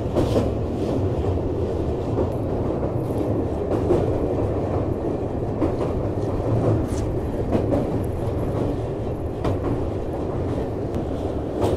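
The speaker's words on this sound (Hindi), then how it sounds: "चलो फाइनली जो ट्रेन का डिपार्चर हो गया" Amrit Bharat Express train pulling away on its inaugural journey near Ramghat station, rail wagons clattering with a steady, continuous rumble and rhythmic clack close by, no talk.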